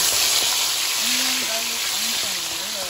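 Garlic and tomato sautéing for pinakbet, a loud steady hiss of frying close up with someone speaking over it.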